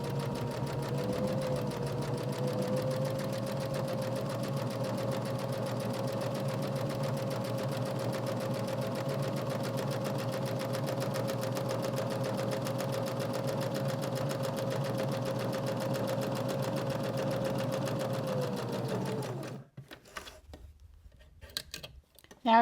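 A sewing machine stitches a narrow seam along the folded edge of a fabric journal cover, running in one steady, continuous hum for about twenty seconds before stopping, with a few faint clicks afterward.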